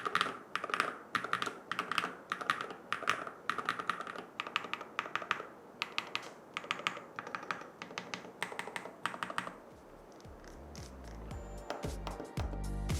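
Fast typing on a compact 29-key KiiBOOM Cybrix29 gaming keyboard with magnetic switches, producing dense, crisp, close key clicks in quick bursts, easing into lighter, more scattered taps near the end.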